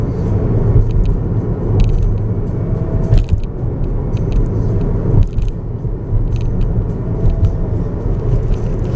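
A Tesla on Autopilot approaching a highway off-ramp, with steady road rumble and tire noise filling the cabin throughout, plus a couple of brief thumps from bumps in the road.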